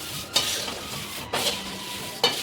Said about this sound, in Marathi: असंच सर्व आपण भाजून घेऊ